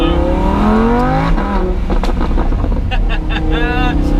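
A Lamborghini Huracan driving on hill roads in the Italian hills, its engine loud and close with rising and shifting revs, while someone talks over the engine noise.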